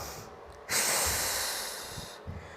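A person in a bear-pose exercise exhales forcefully, a sudden loud breathy rush close to the microphone that holds for about a second and a half and then cuts off.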